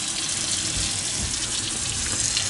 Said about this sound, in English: Stainless steel sink with a hose attachment. Water pressure is terrific.